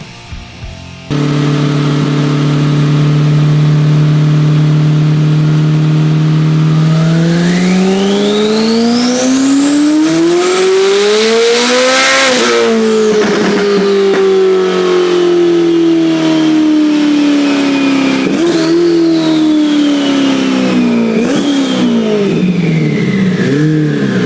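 A heavily modified Corvette C8 Z06 on a dyno screams through a long full-throttle pull, the engine note climbing steadily to a shrieking peak, then easing off with crackles and blips; loud, close and with no talking.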